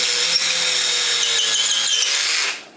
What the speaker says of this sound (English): It's easier to drill deeper